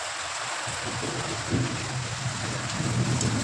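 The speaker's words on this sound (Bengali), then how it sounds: "শীতকালের পরে এই ফার্স্ট টাইম বৃষ্টি ভালো লাগছে বেশ" Steady rain, the first after winter, falls outside while cooking goes on indoors, a dense even patter heard as if through an open kitchen window, with a soft low rumble underneath; no speech.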